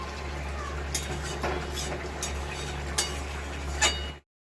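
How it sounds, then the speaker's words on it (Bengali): Boiled peas and small shrimp being stirred in an open cooking pot, with scattered light clinks and scrapes of a utensil against the pot over a steady low hum. "ঢাকনা খুলে আমি নেড়ে দিচ্ছি"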